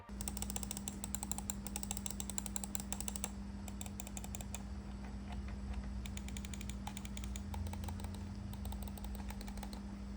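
Clicking of a notched scroll wheel on a lightweight wireless Glorious gaming mouse, a quick run of fine ticks in bursts with pauses between, close up and quiet over a steady low hum.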